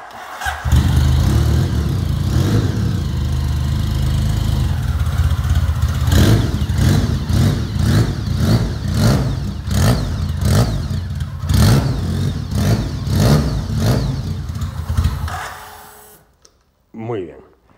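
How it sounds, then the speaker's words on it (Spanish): A BMW K75 motorcycle with a megaphone exhaust fires up cold and idles with a steady rumble, then revs in a series of sharp repeated bursts before cutting off abruptly. "le he puesto un escape megáfono tipo normalito, el de siempre, que suena de maravilla"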